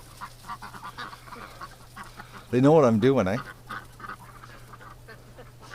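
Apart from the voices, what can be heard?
ducks quacking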